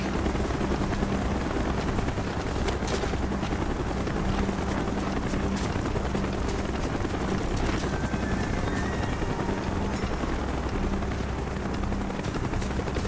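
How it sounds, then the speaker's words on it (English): A military helicopter in Call of Duty: Black Ops flies in with a loud, steady rotor roar that holds for the whole stretch, with faint scattered gunfire beneath it. "Chopper's inbound."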